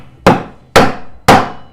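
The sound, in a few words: hammer tapping in a wheel bearing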